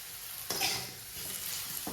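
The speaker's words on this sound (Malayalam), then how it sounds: "അതൊന്ന് നമുക്ക് നന്നായിട്ടൊന്ന് വഴറ്റിയെടുക്കാം" Banana pieces sautéing in a hot pan give a steady sizzle with a louder burst of frying as they are stirred, continuing close and unbroken with no talking.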